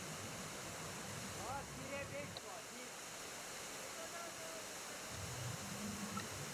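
A waterfall near Manavgat pours down in successive three- to four-metre steps through pools, giving a steady broadband rush of water throughout, with some faint chirps or voices rising briefly in the background.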